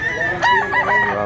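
A white three-year-old fighting rooster crows once, loud and close, at a rural market in Mantalungon, Cebu, its brief harmonic call rising and wavering over a steady background.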